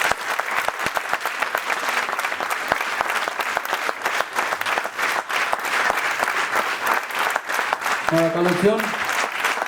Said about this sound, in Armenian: ես ուզում եմ ձեր բոլորի բարձր և ջերմ ծափերի ուղեկցությամբ բեմ հրավիրենք մեր փոքրիկ